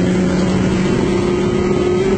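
A turbocharged Gol race car screams at high revs in a street race, its loud, steady engine drone holding close and constant throughout with no speech.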